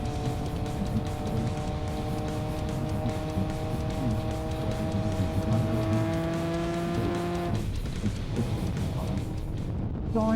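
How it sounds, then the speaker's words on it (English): A naked motorcycle pushes into a strong headwind at freeway speed, its steady engine drone partly buried under loud, rushing wind roar; near the end the engine pitch drops and briefly changes before settling again. "Man, freaking headwind is kicking my butt."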